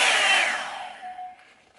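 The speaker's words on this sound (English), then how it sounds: "So it blows out cool and hot air like a blow dryer." A Revlon blow dryer brush blows a loud, steady rush of air that tapers off as it is switched down, ending in a softer hum.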